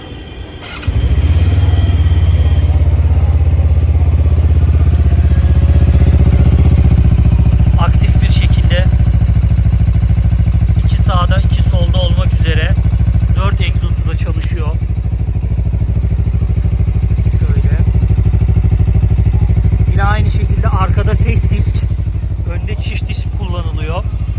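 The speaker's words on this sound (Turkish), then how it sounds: "Şöyle kontağımızı çalıştıralım." An RKS A250 motorcycle cold-starts with a sudden roar, then settles into a loud, steady idle that runs throughout, while someone talks over the engine.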